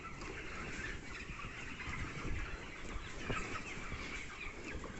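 Chickens on a poultry farm, young broilers about 26 days old, making a dense, continuous mix of clucks and squawks. A crowded flock sounds close and steady with no talk.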